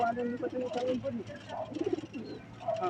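Racing pigeons at a summer race toss coo softly in a series of low, throaty calls, with people talking and moving around them close by.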